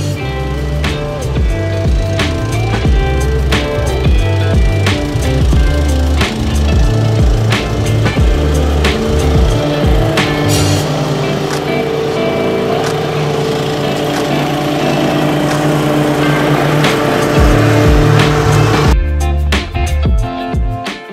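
A Toro Turfmaster 30-inch lawn mower engine running close by, a loud continuous drone with rhythmic pulsing and rattles, shifting slightly in tone before dropping near the end.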